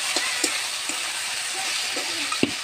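Komli greens frying dry in a pan, a steady hiss and sizzle with a few sharp stirring clicks of a spatula against the pan.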